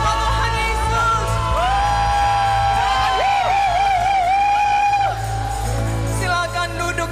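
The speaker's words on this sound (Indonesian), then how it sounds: "Tepuk tangan yang dahsyat buat Tuhan Yesus." A church congregation whoops and cheers loudly for Jesus, with sustained voices rising and wavering over a crowd roar and low music, then easing off toward the end.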